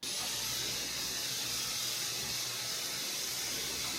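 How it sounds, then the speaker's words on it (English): A steam mop on a floor gives a steady, close hiss of steam with a low rumble underneath, even and continuous, with no talking. "This steam mop has been awesome."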